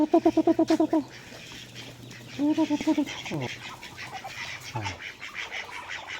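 Ducks quack in quick repeated bursts up close, a rapid run at the start and another a moment later, over steady background noise.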